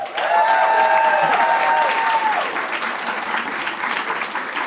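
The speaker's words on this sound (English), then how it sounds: "give a round of applause to the faculty and the staff in the school" Graduates and guests at a nursing school doctoral hooding ceremony applaud the faculty and staff, a loud, dense burst of clapping that stays steady across the clip, with a brief voice or tone near the start.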